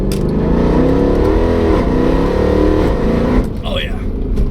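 A Mercedes W204 C63 AMG engine revs hard and loud up close, a sustained rising and falling roar lasting several seconds, with a brief voice near the end.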